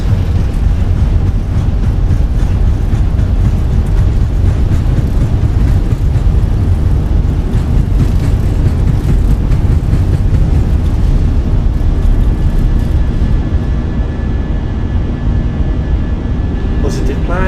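A Wizz Air A320 powers down the runway and climbs away in Microsoft Flight Simulator 2020, a loud, constant engine roar with heavy low rumble that holds throughout, the upper hiss thinning toward the end.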